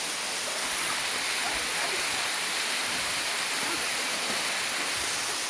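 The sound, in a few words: waterfall inside a resort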